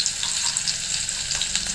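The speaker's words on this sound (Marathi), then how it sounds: "फोडणीला घातले जिरं कांदा हिरवी मिरची लसूण हा फ्राय करून घ्यायच" Cumin, onion, green chili and garlic fry in a spice tempering with a loud, close, continuous crackling sizzle and faint stirring, and no talk.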